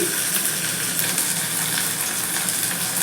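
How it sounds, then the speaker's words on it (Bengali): Sliced onion, small tomato pieces and a green chili fry in hot oil, giving a continuous close sizzling hiss at an even level throughout, without speech. "ওই তেলের মধ্যে একটা মাঝারি সাইজের পেঁয়াজ ঝিরি ঝিরি করে কেটে দিয়ে দিচ্ছি"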